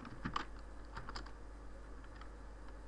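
Typing on a computer keyboard while entering commands in a terminal, a run of quiet, irregular key clicks over a low steady hum, close and soft.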